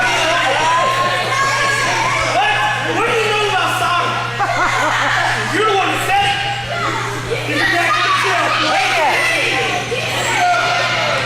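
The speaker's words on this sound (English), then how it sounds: "Kids in the crowd arguing with the Hooligans." Children in a pro wrestling crowd shouting and arguing loudly, overlapping excited voices and cheers across a noisy arena with a steady low hum underneath.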